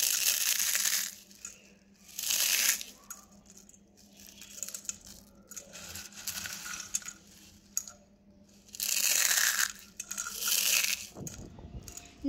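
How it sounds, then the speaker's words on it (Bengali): Crispy shredded fried potatoes are broken apart by hand, producing several bursts of close, dry crunching and crackling separated by quiet pauses, with a faint low hum underneath. "আর দেখতে কত সুন্দর মুচমুচে আর ক্রিস্পিও হয়েছে"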